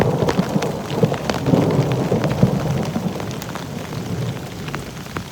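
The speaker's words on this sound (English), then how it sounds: "Hopefully you can hear that, but we just had a massive thunderstorm roll through" Heavy rain from a massive thunderstorm pours steadily at Mt Barney National Park, Australia, while thunder rumbles low underneath, with scattered sharper drop impacts throughout.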